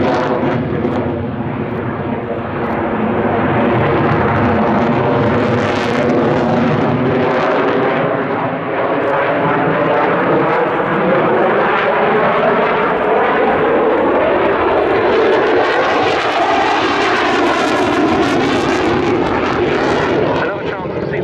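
A Belgian Air Force F-16 jet flies at an airshow, a loud continuous roar that swells and shifts in pitch as it passes, while a commentator talks over the noise throughout.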